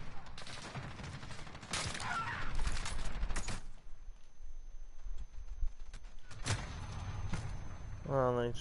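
Gunfire in an online shooter video game, bursts of shots clustered early and again late, fairly close, with a quieter gap in the middle and players talking over it.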